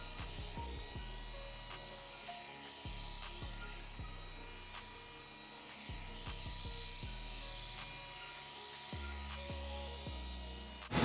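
A machine polisher running a fine finishing pad over clear coat, its steady motor whine and buzz continuing throughout with repeated low thumps and small shifts in pitch as the pad moves across the panel.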